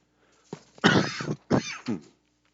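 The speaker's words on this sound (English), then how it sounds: "sorry, I didn't mean to cough in your face." A couple of rough, breathy coughs or throat-clearing bursts in quick succession, close and fairly loud, then quiet.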